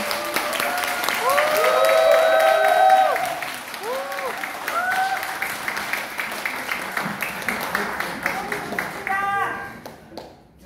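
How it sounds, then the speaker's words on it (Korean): Audience applause at a party members' meeting greets arriving speakers, a dense burst of clapping with cheers that thins into scattered claps, while an announcer's voice speaks over it. "뜨거운 박수로 김민석 수석 최고위원님과 송순호 경남 도당 위원장님 모시겠습니다"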